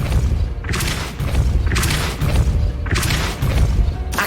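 Repeated Depulso spell impacts in the video game Hogwarts Legacy: four heavy booming blasts with bright crackling bursts, spaced about a second apart over a continuous low rumble, loud and close.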